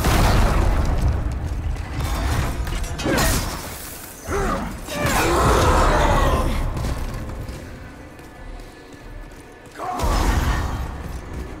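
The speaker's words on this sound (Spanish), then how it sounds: "va a hacer la explosión, wey, agua" Explosions and crashing debris in the video game Demon's Souls, several loud bursts and rumbling impacts separated by quieter gaps, with a player's voice occasionally heard over the game sounds.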